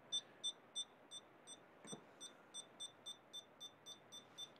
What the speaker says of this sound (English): I'm gonna hit this little button in here in the bottom, and it beeps at me